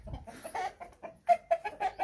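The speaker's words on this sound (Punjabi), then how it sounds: "ਆ ਵੀ ਮੁਰਗਾ ਹੀ ਆ" A rooster on a Punjabi farm clucks in a quick run of short, uneven calls, close and moderately loud, with faint farmyard background.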